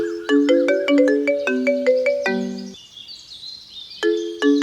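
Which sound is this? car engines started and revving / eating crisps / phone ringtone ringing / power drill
phone ringtone ringing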